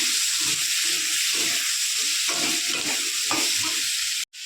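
Spice masala with chopped onions, whole onions, ginger and garlic paste sautéing in a pan, a loud bubbling sizzle broken by rhythmic stirring scrapes, ending in a sharp clatter.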